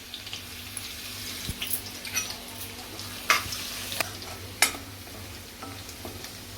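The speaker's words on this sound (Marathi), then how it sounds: "आता लसूण आपला चांगला परतला आहे" Crushed garlic sautéing in hot oil for a kingfish curry, a steady close sizzle with scattered sharp clinks and scrapes of stirring, no voices.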